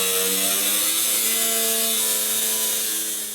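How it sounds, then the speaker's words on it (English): A cutoff wheel grinds through sheet metal along a marked line on custom truck metalwork, a loud continuous high whine with tonal ringing that slowly fades toward the end. "Then cut down the line using a cutoff wheel."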